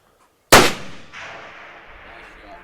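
A rifle fires a single shot at a long-range target outdoors: one sharp, loud crack breaks the quiet, followed by a lingering rumble and a fainter delayed echo as the report rolls away.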